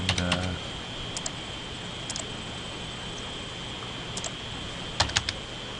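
Keys clatter on a computer keyboard at a drafting workstation, coming in short quick bursts separated by pauses over a steady hum.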